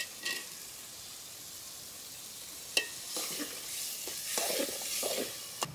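Potatoes frying together with pigeon meat in a pan, a low steady sizzle with a few sharp pops and stirring scrapes, fairly quiet and without talk.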